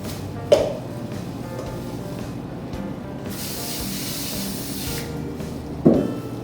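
An aerosol can of baking spray hisses into a cake pan in one long spray lasting a couple of seconds, bracketed by soft clicks and handling noises, with no talking.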